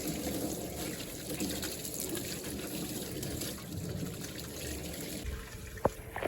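Water running from a tap and splashing over items being rinsed clean, a continuous moderate gushing wash with a faint high whine overhead and a sharp knock near the end, no talk.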